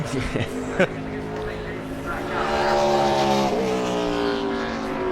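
A NASCAR Nationwide race car at Memphis on a 2009 qualifying lap, its engine droning loudly with a rising pitch as it passes, under a commentator's talk.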